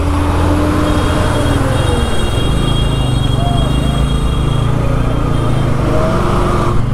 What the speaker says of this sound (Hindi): देख सकते हैं कितना ज़्यादा हैवी ट्रैफिक है इधर।